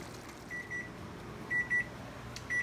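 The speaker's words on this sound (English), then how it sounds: "that's the timer for the naan, which is in the oven" An oven timer counting down homemade naan flatbread: pairs of short, faint electronic beeps repeated three times over a quiet kitchen background.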